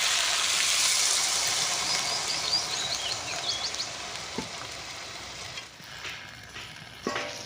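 Water poured into gourd and potato frying with salt and spices in a village-style pan, giving a steady broadband sizzle that slowly eases, with a few clinks of a utensil near the end.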